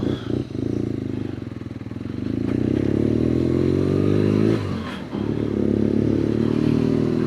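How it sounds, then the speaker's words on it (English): A BMW R nineT motorcycle engine drones and revs while riding, its pitch climbing through gear changes, with wind buffeting and rattling close to the microphone. "it's a beautiful day for riding a motorcycle"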